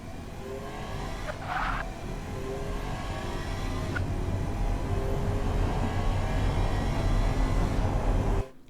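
A sports car in the racing sim Automation, the 2016 Athena SL9, launches down a quarter mile with a steady, rising engine drone, brief tire chirps early on, sustained and fairly loud throughout.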